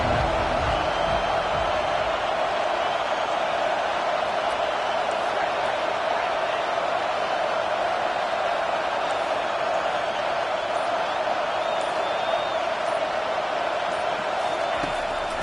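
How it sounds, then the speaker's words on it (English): A steady, dense stadium crowd roar rises on a third-down defensive stand in College Football 25, constant and loud throughout with no distinct words. "Decibels rising as the crowd gets behind this defense on third down"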